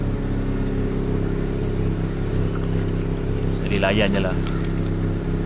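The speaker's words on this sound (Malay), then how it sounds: "Bunyi idling rotary." A Mazda RX8 rotary engine idles steadily and close by, a low continuous drone with a faint exhaust note, while someone talks over it near the end.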